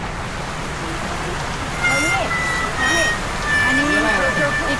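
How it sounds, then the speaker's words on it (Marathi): Heavy rain on a rainy-day outing to Ekvira gives a steady broadband hiss with traffic noise and a high tonal beep, while voices talk over it throughout. "आणि इकडे तुम्ही बघू शकता भरपूर असा पाऊस आहे"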